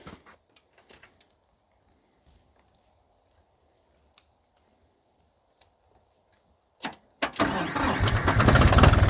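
A tractor engine coughs and catches after a near-silent wait, then settles into a loud, steady running rumble close by.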